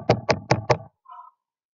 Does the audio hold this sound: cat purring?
no